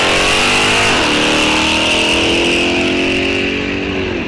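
A 1966 Mustang and a Buick Grand National launch down a drag strip, their engines roaring very loud and close in a continuous revving surge that climbs in pitch and holds steady, with no voices.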